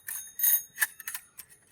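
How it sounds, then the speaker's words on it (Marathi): A child's bicycle bell rings in several quick bursts of bright metallic dings, close and fairly loud, with short gaps between rings. "घंटी वाजती कर सायकलची"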